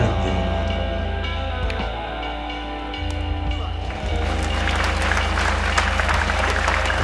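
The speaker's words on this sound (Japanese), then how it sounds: "で大きな拍手を送りますね。" Spectators applauding at a billiards match, a sustained wash of clapping that swells in the second half and carries on continuously.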